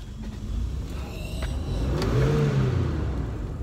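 A Toyota 4Runner engine revs up with a rising whine, holds briefly, then settles back to a steady hum, heard close with no talking.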